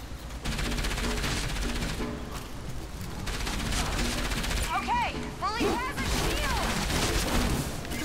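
A mech's mounted gun fires in the video game Enslaved: Odyssey to the West, producing a sustained, dense rattle of gunfire mixed with crashes and game effects, while a voice talks over the action.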